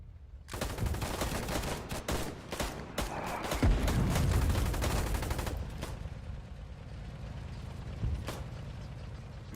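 Heavy machine gun fire in the World War II strategy game Company of Heroes 3, with loud rapid bursts, overlapping gunshots and explosions through most of the stretch before easing into a sparser distant crackle of fire.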